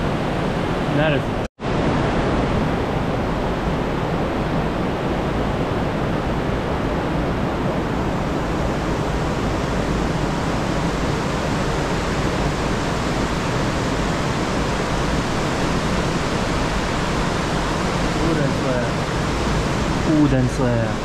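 Water rushes inside a cave as a loud, dense, steady roar that fills the space evenly throughout, briefly cut out once near the start.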